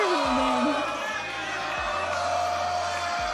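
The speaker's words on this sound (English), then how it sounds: "the crowd is chanting D-Lo" A beatbox battle crowd at the Grand Beatbox Battle 2019 finals in Poland chants a competitor's name in steady rhythmic unison. The dense, loud roar of voices runs continuously over a low pulsing bass, with someone talking close over it.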